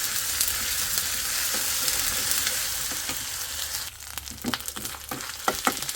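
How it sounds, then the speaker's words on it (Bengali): Ginger paste and spices fry in a pan with a constant loud sizzle, followed by the scrape and clatter of stirring toward the end. "আদাটা খুব সুন্দর করে ভাইজে নিচ্ছি"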